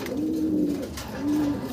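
Pigeons coo in two low, rolling phrases with a short gap between them, close by and fairly soft, among several pairs kept together in a pigeon house.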